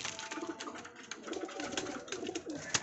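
Pigeons coo softly and repeatedly while eating feed, their throaty murmurs close by, with light pecking and rustling mixed in.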